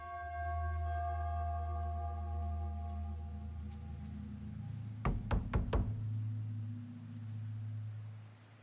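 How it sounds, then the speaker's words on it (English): A doorbell chimes at a house door in The Casting of Frank Stone, a quick run of four or five bright, ringing tones sounding over a steady low ambient drone, then fading. "doorbell."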